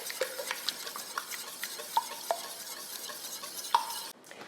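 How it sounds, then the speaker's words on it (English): Eggs whisked into a cooled cooking mixture in a bowl: a quick run of light, rhythmic clinks and scrapes, close and fairly quiet, ending abruptly. "whisk that together"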